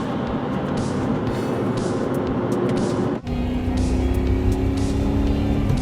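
A Lamborghini Jalpa's engine roars loudly at high revs from inside the car, a continuous dense drone with a brief dip at a gear change before the revs climb again.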